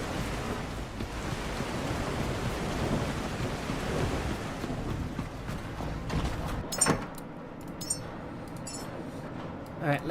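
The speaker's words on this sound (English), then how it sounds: "Of course, it is raining." Steady rain pours down with a low rumble of thunder rolling beneath it in a survival game, broad and continuous, thinning toward the end with a few scattered clicks and knocks.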